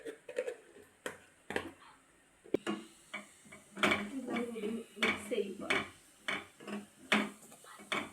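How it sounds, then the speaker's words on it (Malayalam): Chicken being mixed with turmeric, chicken masala and garam masala in a pot; close irregular clinks and scrapes of a spoon against the pot, in short bursts with pauses. "എല്ലാം കൂടി മിക്സ് ചെയ്യുക."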